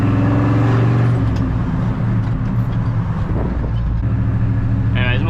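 A Chevrolet squarebody truck's exhaust drones loud and steady from up close while driving, a deep continuous engine rumble that swells slightly near the end.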